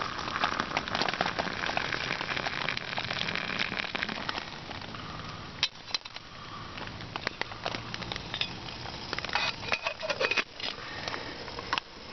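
Steady rain patters on a tent during a bushcraft outing, a dense continuous hiss of drops with scattered louder splats and taps, close and enveloping with no voices.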